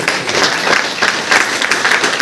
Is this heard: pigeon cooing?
no